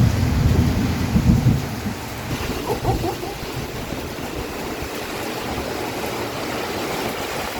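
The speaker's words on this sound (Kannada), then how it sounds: "ಗುಡುಗು ಕೇಳಿಸ್ಕೊಳ್ಳಿ, ಗುಡುಗು." Thunder rumbles during heavy wind-driven rain in a village, the year's first downpour, with a strong low roll at the start fading into a steady, dense hiss of rain that continues to the end.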